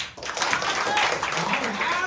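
Steady applause from a church congregation, rapid overlapping claps with some voices underneath, lasting a couple of seconds.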